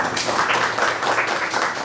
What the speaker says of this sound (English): Please give a round of applause to Asmaa